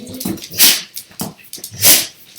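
Several dogs indoors, agitated, giving loud close whines, yips and short barks in uneven bursts, filling the room.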